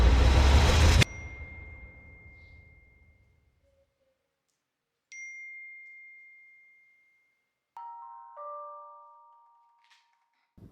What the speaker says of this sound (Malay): Tapi setiap minggu, mesti ada satu notification yang sama